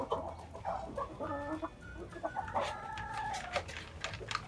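Several chickens cluck and call nearby, with drawn-out, crowing-like notes rising over a steady murmur of farmyard noise.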